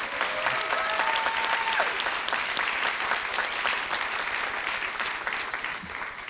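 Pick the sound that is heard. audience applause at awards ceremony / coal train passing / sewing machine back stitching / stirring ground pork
audience applause at awards ceremony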